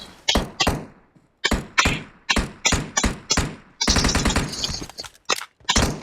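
Rapid gunfire bursts in the video game BGMI (PUBG), loud punchy shots in quick clusters separated by brief pauses, with one longer sustained volley in the middle.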